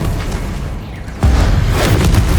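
A Bombarda spell blast in the Hogwarts Legacy video game, a near, loud explosion. It arrives as a sudden heavy boom partway through and is followed by sustained low rumbling debris, after a quieter stretch of game ambience.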